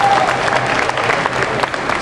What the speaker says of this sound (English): Give him a round of applause for helping me out on stage.